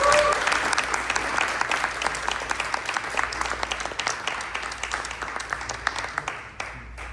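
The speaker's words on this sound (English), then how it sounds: "Let's give a round of applause to our presenters." An audience applauds presenters at a Los Angeles City Charter Reform Commission meeting, with steady dense clapping throughout that thins and fades near the end.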